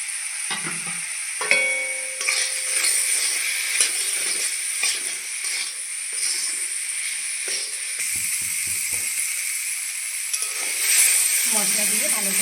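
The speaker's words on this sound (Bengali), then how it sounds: "মশলা দিয়ে ভালো করে একটু ভেজে নিয়েছি" Radish frying with spice paste in a pan sizzles steadily while it is stirred, with scraping spatula strokes and bursts of crackling spitting over a constant hiss.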